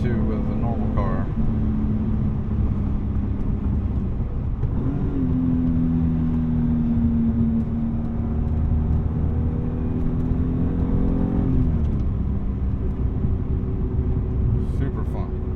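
A 1999 BMW M3 E36 with a lightweight flywheel, engine revving steadily while driving, its pitch rising and falling with shifts, a continuous close drone throughout.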